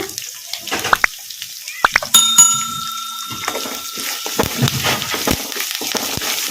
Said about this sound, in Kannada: ಉಳ್ಳಾಗಡ್ಡಿನ ಲೈಟ್ ಬ್ರೌನ್ ಕಲರ್ ಬರೋವರೆಗೂ ಫ್ರೈ ಮಾಡ್ಕೊಂಬಿಡೋಣ